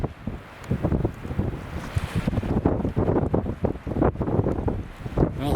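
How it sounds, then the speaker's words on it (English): Strong wind blows outdoors, buffeting the microphone in loud, irregular gusts and rumbling bursts that continue throughout, with no talking. "Look how windy it is, you guys."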